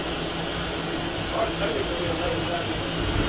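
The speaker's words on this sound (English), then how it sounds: "I'm getting a great experience in riding on a steam train" A 100-year-old steam train runs with passengers aboard, producing a constant broadband rumble and hiss of wheels and steam, close and unbroken for the whole stretch.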